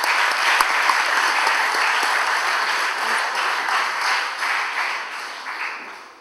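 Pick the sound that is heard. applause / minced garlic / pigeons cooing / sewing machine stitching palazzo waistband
applause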